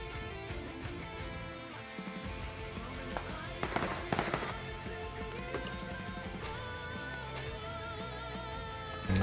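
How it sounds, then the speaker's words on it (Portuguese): Loud, dense game audio with music and rapid bursts of gunfire close by, sharp cracks layered under a busy mix. "Mas tem tiro bem pertinho de mim aqui."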